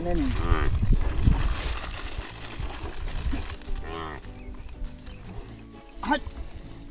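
Water buffalo low and moo amid farmyard noise in the Uttarakhand mountains, with insects chirping and people talking nearby; several bellows rise and fall at close range.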